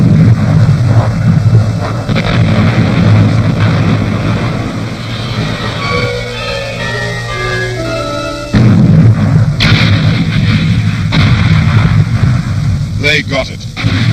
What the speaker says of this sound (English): The Japanese expected an artillery duel.